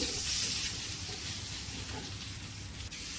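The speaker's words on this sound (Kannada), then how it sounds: "ಮಸ್ಟರ್ಡ್ ಹಾಕಿದ್ದೀನಿ ಚಟ್ಪಟ ಅಂತ ಹೊಟ್ಟೋದಕ್ಕೆ ಸ್ಟಾರ್ಟ್ ಆಯ್ತಲ್ವಾ" Mustard seeds crackle and pop in hot coconut oil, a steady loud sizzle with fine irregular spits, close up and without talk.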